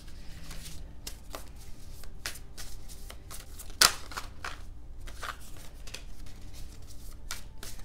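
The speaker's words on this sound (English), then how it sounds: "let me make sure that I'm shuffling these upright" Tarot cards are shuffled by hand, a quiet series of crisp riffling bursts at an irregular pace, with one sharper snap midway.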